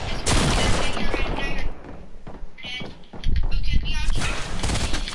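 Gunfire in a PS4 video game comes as bursts of rapid shots and heavy thuds, loud and dense, with gaps between volleys and a voice talking over the action.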